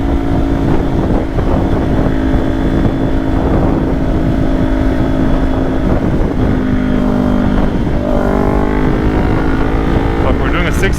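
Kawasaki Ninja 400 motorcycle on a highway, its engine whining upward through the gears in a full pull with a shift partway through, loud and close under heavy wind buffeting.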